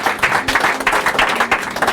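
A church congregation applauding Jesus: dense, loud, continuous clapping from a full crowd, close and steady throughout.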